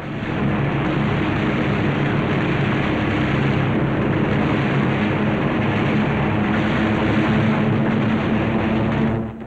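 WWII carrier aircraft dive low over an enemy island, a loud, steady roar of piston engines that holds at full strength without a break.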